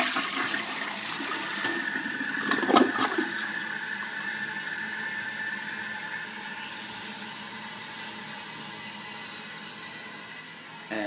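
A household toilet flushes with a loud rushing of water that slowly subsides into a steady hiss and refill trickle, heard alone without talk.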